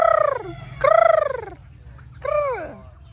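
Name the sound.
chickens clucking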